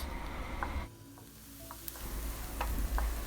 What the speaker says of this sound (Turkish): Üzerine ince ince doğradığımız bir adet soğanı ve bir diş sarımsağı ilave ediyoruz ve iyice kavuruyoruz